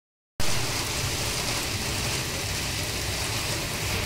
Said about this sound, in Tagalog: Nalakas ng ulan, friendship.